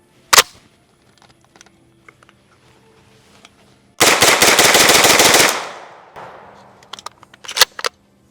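Close, loud burst of automatic fire from an MP5 submachine gun lasting about a second and a half, bracketed by a few sharp single shots and metallic handling clicks before and after.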